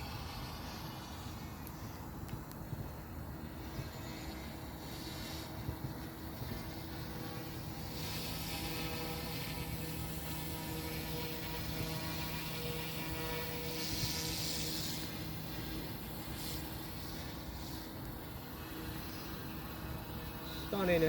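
An OMPHobby M2 Evo RC helicopter hovers at a distance, giving a faint, steady, tonal rotor and motor whine that swells slightly now and then.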